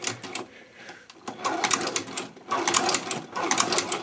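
A Chinese shoe patch sewing machine stitches leather in close, rattling runs with a brief hitch and pause between bursts of rapid needle clatter.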